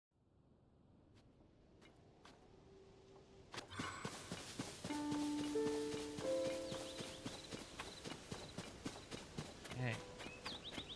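A gold horse named Sonia trots in the video game Tears of the Kingdom, its hooves clip-clopping in a steady close rhythm under game music, with a voice talking over it.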